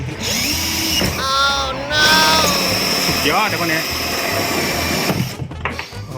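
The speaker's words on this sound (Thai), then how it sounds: "ตรงนี้เป็นขั้นตอนการเจาะท่อน้ำออกนะครับเพื่อให้ขี้ปลาแล้วก็เศษตะกอนออก" A power drill bores holes into a plastic water pipe for a homemade fish pond filter, a loud whirring whine that shifts pitch as it bites, with a voice speaking over it.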